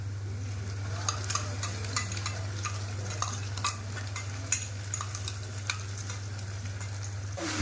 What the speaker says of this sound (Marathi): कांदा लाल होत आहे ना हो पेस्ट कशाची आहे आलं लसूण आणि कोथिंबीर मिरची